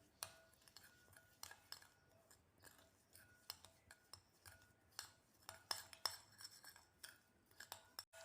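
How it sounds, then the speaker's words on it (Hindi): A spoon clinks and scrapes in a bowl as powdered sugar, desiccated coconut and boiled, cooled milk are mixed for milk barfi. The light ticks and scrapes come close and soft in irregular bursts, with no talk. "अच्छे से मिक्स कर देंगे।"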